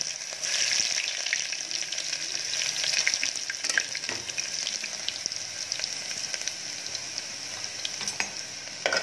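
Garlic fries in a hot pan with loud, continuous sizzling and crackling, punctuated by scraping stirs and clicks of a utensil, close up and with no voices.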